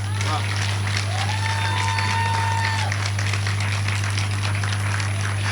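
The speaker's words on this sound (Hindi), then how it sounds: "इन बेटियों ने तालियां कमजोर बजाई हैं।" Applause from the audience at a Hindi hasya kavi sammelan poetry event, continuous clapping under a strong electrical hum, with a person's voice briefly rising over it.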